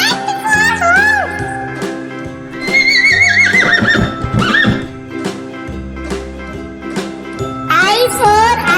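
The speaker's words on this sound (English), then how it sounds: "H for horse." A horse neighs loudly in a children's phonics song, whinnying calls at the start and end with hoof clip-clop and jingling over bright musical backing.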